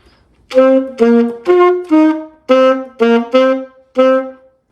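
Alto saxophone plays a short melodic phrase of eight separate notes, mostly repeating one pitch with a brief dip, clear and close with no accompaniment.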